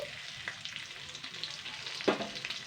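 Whole cumin seeds and crushed garlic frying in hot oil, a soft steady sizzle with light stirring scrapes, faint and close.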